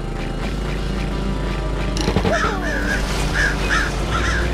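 Crows caw in alarm in the Summer Catchers video game, a burst of several harsh calls in an uneven run that rises over a steady game ambience partway through.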